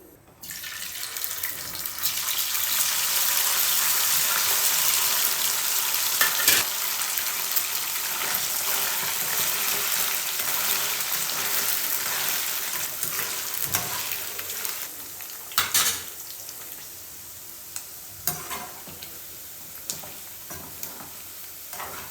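Oil hits a hot pan while making chicken pickle, bursting into a loud, steady frying hiss that holds for many seconds, then eases slightly, with occasional clinks and stirring scrapes.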